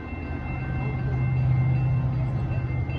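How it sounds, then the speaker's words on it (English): A Metra commuter train rushes past the platform at Berwyn station, a steady, loud rolling rumble that holds for the whole stretch without letup. "next outbound train approaching your station will not stop."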